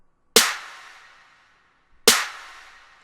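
Two separate snare drum hits in a trap beat, treated with reverb and Camel Crusher distortion, each a sharp bright crack with a long washy tail, about two seconds apart.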